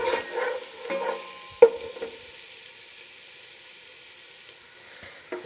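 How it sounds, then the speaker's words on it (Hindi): Garlic frying in oil in a pan over a medium flame for pasta, giving a soft, steady sizzle broken by a few sharp stirring clinks and scrapes, close by, with no talk. "1 से 2 मिनट के लिए लहसुन को हम लोग इसके अंदर फ्राई करेंगे।"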